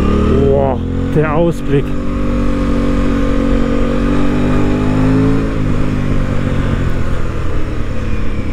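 An Aprilia RS 660 motorcycle on an Alpine pass runs with a loud, steady engine drone close by while the clutch is pulled, the pitch shifting slightly midway; someone speaks briefly over it at the start.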